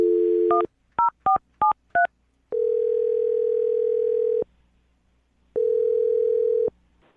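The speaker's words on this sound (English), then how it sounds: "I'm going to dial his phone number right now." A telephone number is dialed, producing four or five quick touch-tone beeps followed by two long, steady ringback tones separated by a pause, all clean and close.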